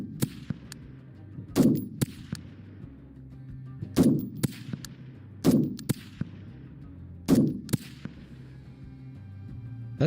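Gunfire in a video game comes as four separate loud, close shots spread several seconds apart. Each is a sharp crack with a booming tail, and fainter clicks and clatter sit between them.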